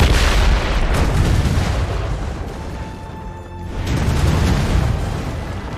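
Ship cannons fire in Assassin's Creed Rogue, a naval combat video game, with heavy booming blasts and a rumbling barrage that dips briefly and then surges again.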